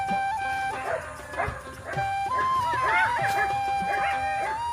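Dogs chasing a jackal bark, yelp and whine in a mix of short barks and rising howls, close and fairly loud, with faint human voices in the background.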